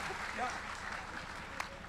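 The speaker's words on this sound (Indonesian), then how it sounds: "sekali lagi aplaus untuk Komandan Jenderal" A hall of students at a university orientation session applauds a commanding general, a steady, fairly distant wash of clapping with a voice speaking over it and a single sharp knock near the end.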